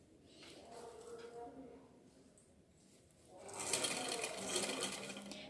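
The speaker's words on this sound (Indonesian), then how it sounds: "seperti ini kita jahit 1 cm dan kita letakkan yurenya pas di pinggir kain" A sewing machine stitches horsehair braid onto the edge of fabric, its needle running in a faint steady whir that rises louder near the end, while someone speaks quietly over the start.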